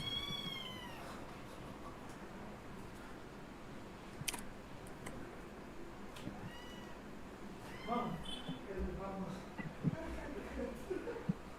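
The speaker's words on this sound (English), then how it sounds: "I adopted a couple of kittens. Right, they were in my room and they started screaming." Kittens meow and cry indoors in a room, several shrill calls scattered across the span, some faint and some louder and nearer, with a few clicks and faint voices in the background.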